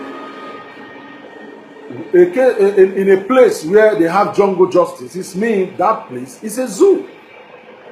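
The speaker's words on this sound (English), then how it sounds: "Sorry about the train." A train goes past in the background, its rumble running low and steady beneath someone speaking loudly and continuously.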